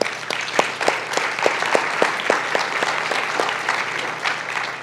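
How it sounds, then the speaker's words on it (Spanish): A church congregation applauds steadily throughout, dense continuous clapping with some sharper individual claps standing out, fairly close and loud with no talk over it. "denle un aplauso, Señor"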